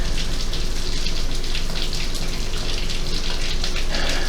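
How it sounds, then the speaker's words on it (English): Steady rain falls continuously, a dense close hiss of drops pattering on surfaces with no pauses, loud and even throughout with no voices. "listen to the rain with me"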